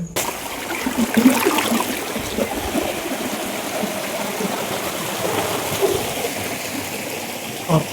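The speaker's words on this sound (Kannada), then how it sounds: "ಬಟ್ ಇಲ್ಲಿ ನೀರು ಉಟ್ಕೊಂತಿದ್ದಾವೆ ನೀರು" Water wells up from a spring in the hills near Ballari, Karnataka, and flows away in a steady, close trickling stream, continuous throughout with faint background voices.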